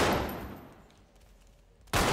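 Gunfire in GTA 5, with a loud burst of shots that decays into quiet, then a second sharp blast at the end, with no talking.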